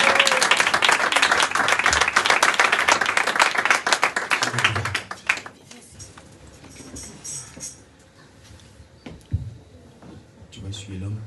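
Wedding congregation in a church ceremony clapping and cheering, dense loud applause that fades after about five seconds into scattered claps and voices.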